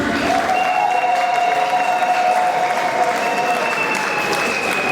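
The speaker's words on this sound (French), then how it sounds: "Les mariés veulent entendre ce soir les acclamations des invités qui sont au-dessus" Wedding guests at a reception, seated on an upper level, clap and cheer for the newlyweds in a dense, steady ovation that continues at full strength throughout, with a faint sustained tone running beneath it.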